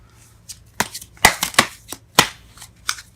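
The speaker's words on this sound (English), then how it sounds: "it's not letting me shuffle here" Tarot cards being shuffled in a series of sharp riffling bursts, close and fairly loud, with a faint low hum underneath and no talking.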